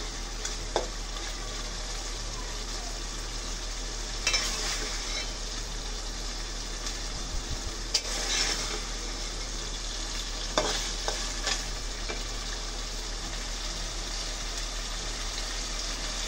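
Spices frying in hot oil for a beef tripe dish, a continuous close sizzle with a broad hiss, broken by a few louder stirring scrapes and clinks of the spoon against the pan.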